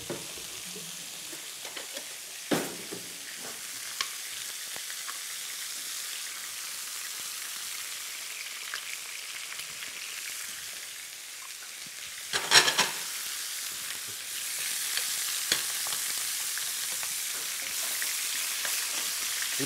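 Garlic and star anise fry in onion-infused oil, a soft, continuous sizzle broken by a few louder knocks and scrapes as the pan is stirred.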